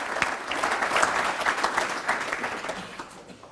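Audience applause at a county conference on a college campus, a room of people clapping steadily and moderately loud, tapering off toward the end.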